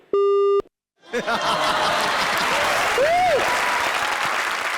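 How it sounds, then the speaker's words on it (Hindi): Loud audience applause with cheering, a steady dense roar of clapping that starts after a brief tone and continues throughout. "एक बार फिर से जोरदार तालियां"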